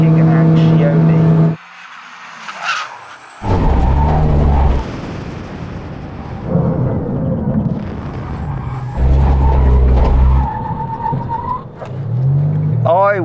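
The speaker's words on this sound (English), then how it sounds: "When we reach the line, put emergency stop." Bugatti Chiron and Lamborghini Huracan, a 1600-horsepower build, brake hard from 100 mph at a drag strip, with loud engine roar and road noise surging and dropping away in bursts, a voice talking over the cars.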